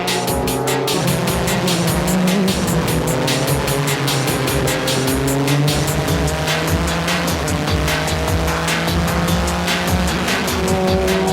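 Race cars roar around the track as a Nissan Z chases a Toyota Supra in a JGTC race, loud continuous engine drone with shifting revs and tire squeal throughout.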